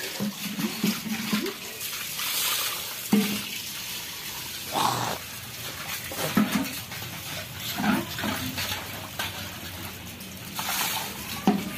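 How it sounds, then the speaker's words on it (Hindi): Dishes and utensils that had been used over a wood-fired stove are washed with water on an outdoor veranda, with splashing, pouring and intermittent clinks of metal pots repeating near the microphone, with no speech. "वही मैं अभी धो दे रही हूँ"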